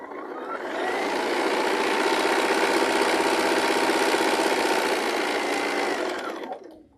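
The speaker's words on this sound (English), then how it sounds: "And then sew the other side." A sewing machine stitching fabric, running steadily at an even speed for several seconds, close and clear, then winding down at the end.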